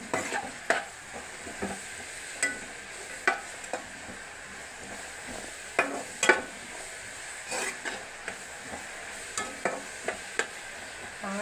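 Fish curry with salt and turmeric is stirred in a pan: a spoon scrapes and taps against the metal in irregular strokes over a soft, constant sizzle, close by with no talking.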